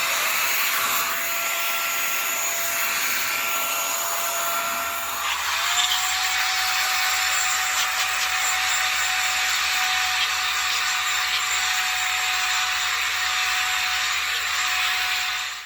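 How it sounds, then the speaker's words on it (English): An ATEngeus cordless rechargeable air duster blows a loud, steady rushing hiss of air with a high motor whine that shifts pitch as the speed changes, continuous and close throughout. "it's a powerful little cordless air duster"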